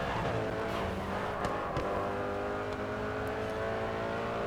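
Race car engine revving in the video game GRID 2 during grip racing, a steady loud high-pitched engine drone with gear changes and faint tire noise throughout, no talk.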